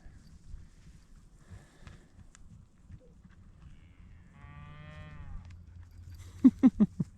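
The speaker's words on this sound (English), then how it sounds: "Cows know where they're going. They're off." Cattle in farm stock yards on a clear day, with a run of four loud, close moos near the end over low shuffling movement and a brief tonal whine midway.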